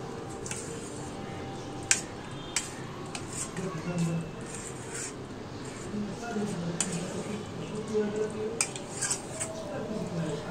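A spoon scrapes and clinks against a pan while mixing matar chicken curry with chaat masala, irregular metallic knocks and wet stirring close by, with someone talking over it.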